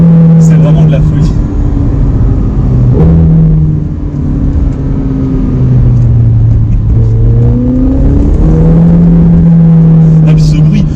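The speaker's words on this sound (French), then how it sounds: "c'est le bruit du turbo" A McLaren 720S twin-turbo engine pulls and accelerates, a loud steady drone rising and falling in pitch through gear changes, heard from inside the car with voices talking over it.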